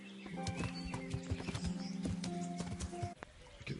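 Rapid clip-clop of horse hooves alongside a loud, wavering neigh in the video game Kingdom Come: Deliverance, close and busy, ending with a brief pause and more hoofbeats.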